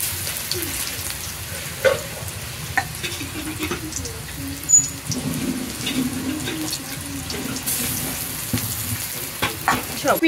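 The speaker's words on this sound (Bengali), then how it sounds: "এবার এরকম ছোট ছোট বড়া মতো করে কড়াইতে দিয়ে" Small flattened pumpkin flower fritters frying in oil in a wok, with a continuous loud sizzle, occasional scrapes and knocks of a utensil, and faint talk in the background.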